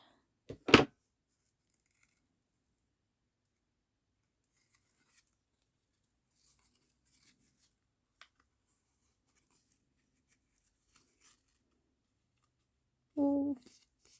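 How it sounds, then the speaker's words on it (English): Scissors cut a length of ribbon in one sharp, close snip near the start, followed by long near-silence with faint rustles, then a brief voice at the end. "I'm just going to cut. We only need this much."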